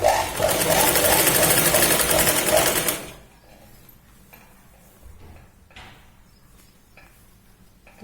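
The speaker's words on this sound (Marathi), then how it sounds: "बघा या पॉइंट पर्यंत आपण पूर्ण शिलाई लावून घेतो." A sewing machine stitches a seam on a Punjabi salwar suit, running loud and steady for about three seconds before stopping, followed by quiet handling noises.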